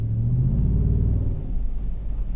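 A Ford F-150 with a 5.0L V8 revving in four-wheel drive as its wheels slip, a close, deep rumbling engine drone that rises then eases off, with no talk.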